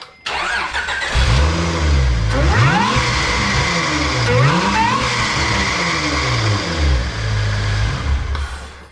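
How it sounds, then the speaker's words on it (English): A car engine cranks and roars to life, then revs hard several times with a rising mechanical whine on top, loud and close, with no talking. "Oh man, that supercharger screams."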